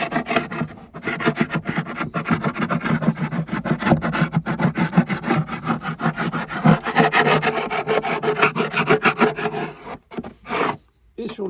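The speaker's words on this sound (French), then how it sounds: "avec le bord coudé du lève-cadre, on vient gratter la propolis qui est sur" A metal hive tool with a bent edge scrapes propolis off the wooden inner walls of an empty beehive, a continuous rasping, rhythmic scraping of close strokes that pauses briefly near the end.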